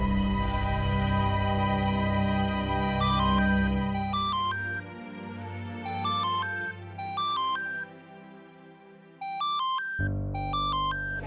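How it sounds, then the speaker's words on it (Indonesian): A phone ringtone plays a repeating electronic melody of bright beeping notes over a low background music bed, steady and fairly loud, pausing briefly then starting again near the end. "saya mau ngangkat telepon dulu"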